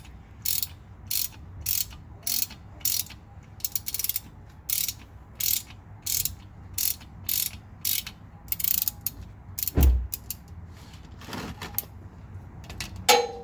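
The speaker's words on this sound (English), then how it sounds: "So I'm just loosening this up right here. I believe this is the drain plug." A ratchet loosening the rear differential drain plug on a Mercedes-AMG 63 with an M177 engine and 4MATIC, heard as close bursts of rapid clicking in short strokes with pauses between them and a single heavier clunk partway through.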